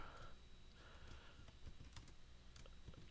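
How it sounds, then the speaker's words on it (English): Fingers tap on a computer keyboard in quick, irregular clusters of keystrokes, close and quiet, with no talk. "As you can see, we are typing as we go."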